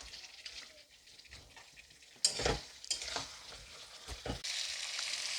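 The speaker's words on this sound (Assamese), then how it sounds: "এইখিনি দি মই আকৌ" Chicken pieces fry with a paste of almonds and raisins in a pan, a quiet steady sizzle broken by a few sharp scraping stirs of a spoon, with no voices.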